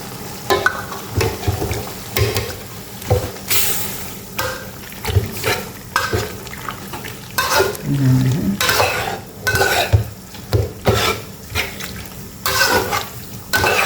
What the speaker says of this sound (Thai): ช่วงนี้เราใส่หน่อไม้ลงไปได้เลยค่ะ